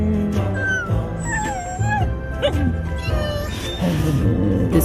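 Dog barks, yips and whimpers in a Subaru Crosstrek advert, several short vocal bursts mixed under speech and background music.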